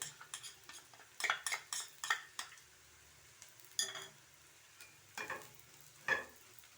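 Coriander powder being stirred into ginger and garlic frying in a pan for a chicken curry, with scattered spoon scrapes and clinks against the pot over a soft, quiet sizzle.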